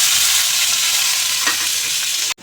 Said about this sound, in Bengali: ওই তেলেতেই ক্যাপসিকাম, কাঁচা লঙ্কা, রসুন কুচানো আর পেঁয়াজ এইভাবে কেটে নিয়েছি। এগুলো সবগুলোই দিয়ে দেব।